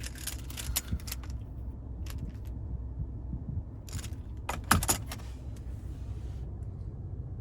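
The key fob of a 2020 Lincoln Navigator Reserve jangles in a few short metallic bursts inside the quiet vehicle cabin, with a low rumble underneath.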